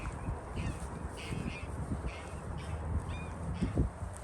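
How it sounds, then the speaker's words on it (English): Canada geese at Crossness Nature Reserve, a wetland, in winter give several distant honking calls, faint and spaced out over steady outdoor ambience with some low thumps. "Canada geese."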